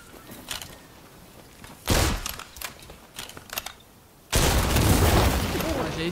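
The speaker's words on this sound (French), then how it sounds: "Ça explose." Red barrel exploding in the video game Rise of the Ronin: scattered popping bursts build before a loud, sustained blast erupts and roars on to the end, close and heavy.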